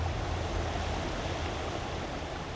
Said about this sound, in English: The trail led us to a water crossing